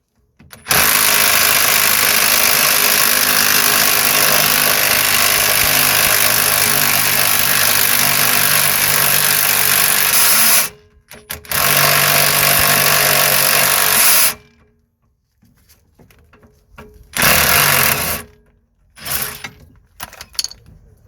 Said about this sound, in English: we're going to use our impact wrench to undo the